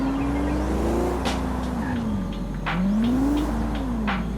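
A twin-turbo Lamborghini Countach engine in the video game Forza Horizon 5 revs and spools with rising and falling turbo whistles over a steady low drone, with brief bursts of hiss in between.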